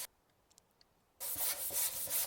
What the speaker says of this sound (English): we're just sanding this putty down